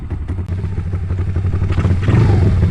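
A GPX Moto FSE140 small motorcycle engine runs up close with a low, throbbing hum, then revs harder toward the end as the ride gets going, with some rattling clatter.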